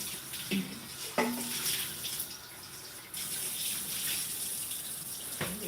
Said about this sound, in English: Let me rinse these potatoes at least.